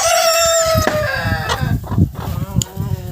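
Domestic hens and turkeys at a farm in brooding season give loud, close clucking and rooster-like calls, with scattered rustling and movement around them.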